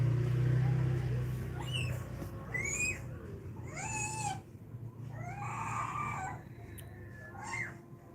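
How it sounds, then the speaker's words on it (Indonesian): Cats fight outdoors with a run of rising and falling yowls and wails, some short and some drawn out, over constant low rumbling noise at a moderate distance. "Ah, kucingnya lagi berantem."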